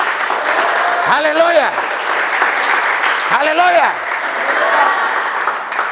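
A church congregation applauds and cheers in a steady, dense roar of clapping, while a voice shouts over it twice.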